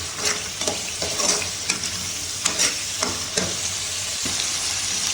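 Spices and tomatoes fry in a pan for an Afghan-style chickpea curry, giving a steady close sizzle with occasional stirring scrapes every second or so, and no voices.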